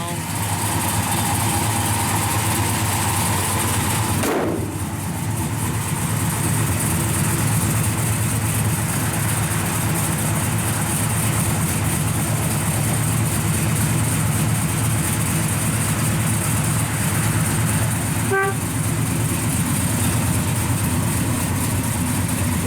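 A 1965 Plymouth Belvedere 440 idles outdoors in cold weather, its V8 rumbling loud and steady at close range throughout, with a brief shift in tone early on.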